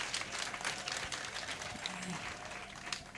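An audience applauds at a prison services ceremony with a cake-cutting, steady clapping filling the room at moderate volume under a busy crowd.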